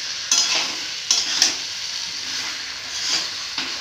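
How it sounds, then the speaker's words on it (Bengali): Fried onions and whole potatoes are stir-fried in a tomato-based spice masala. A steady sizzle carries a handful of sharp spatula scrapes and knocks against the pan, and no one speaks. "এবারে ভেজে রাখা পেঁয়াজ আর আলুগুলো দিয়ে দিব। ভালো করে কষিয়ে নিব।"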